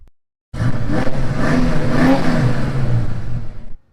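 A 1987-1993 Ford Mustang Foxbody engine roars to life after an oil change and revs steadily for a few seconds, loud and close, then cuts off abruptly.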